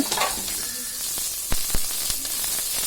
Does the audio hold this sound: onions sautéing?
yes